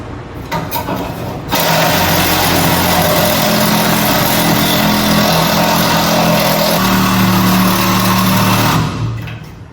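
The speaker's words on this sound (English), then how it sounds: "I had to get out the Sawzall" A Sawzall reciprocating saw cuts through metal while lowering a Ford F100 pickup in a shop, a loud steady buzzing drone that starts after a brief lead-in and runs continuously for about seven seconds before cutting off.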